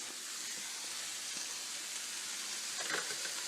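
Ground meat for meatloaf browning in a pan, a steady close sizzle and fry hiss with a few faint scrapes and stirs, no talking.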